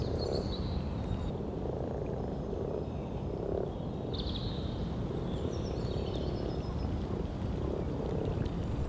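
A dense chorus of common frogs croaks steadily and continuously, with higher trilling calls rising and fading in the background.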